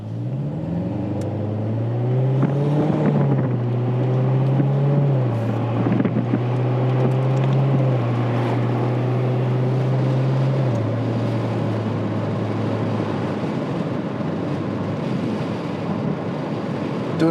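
A 2019 Chevrolet Corvette Z06 engine drones and revs up through the gears, pitch climbing and dropping, with road and wind noise around it.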